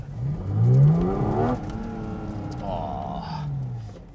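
Porsche Cayman GT4 RS with the Manthey Racing Kit revving up, rising in pitch to a loud peak, dropping back, then climbing again in a second rev, close by.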